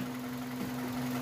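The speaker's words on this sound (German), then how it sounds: "Jetzt mache ich mal den Motor aus." A Hyundai i30 car engine hums evenly throughout, close and moderately loud, with no speech.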